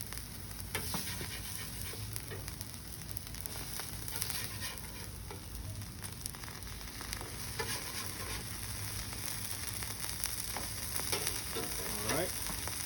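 Fish frying on a flat griddle, a steady, dense crackling sizzle that runs unbroken and close throughout, with faint scraping now and then.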